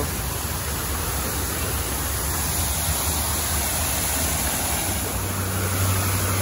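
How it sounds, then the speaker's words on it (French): A waterfall roars as a constant, dense rush of falling water, loud and unbroken throughout, with no voices over it. "On vient d'arriver sur le bord d'une chute d'eau."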